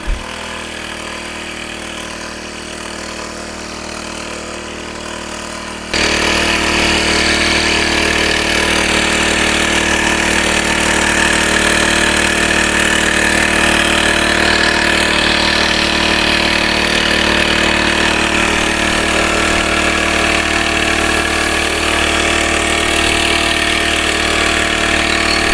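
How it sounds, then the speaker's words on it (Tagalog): A 4-stroke engine on a Kiasa double-pump 20-litre knapsack sprayer runs with a steady drone that jumps abruptly to a much louder sustained roar after several seconds and holds there, with no voices. "dinemo natin para makita natin kung gaano nga ba kalakas ang buga ng kanilang sprayer na 4-stroke"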